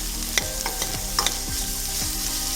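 Onions sautéing in a pan with green chilli, garlic, shallots and ginger, a steady sizzle broken by several scraping stirs of a spatula at uneven intervals, close and moderately loud, no voices.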